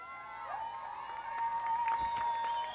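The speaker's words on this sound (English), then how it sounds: "So crowd's getting excited." A crowd at a high school football game cheers in a loud, sustained roar, with whistles and scattered yells rising over the steady noise of the stands.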